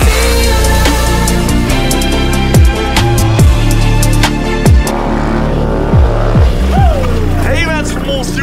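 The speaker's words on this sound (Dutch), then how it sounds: "Kijken wat het geluid is zonder uitlaat." A motorcycle engine running with its exhaust removed throbs and revs loudly and close, repeated throttle blips rising and falling over a rough idle, with people talking over it.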